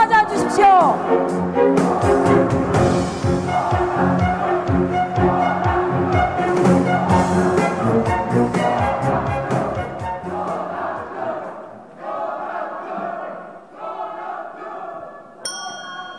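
A crowd at a Democratic United Party presidential primary rally in Jeju claps and cheers loudly and continuously, with music playing underneath that thins out toward the end.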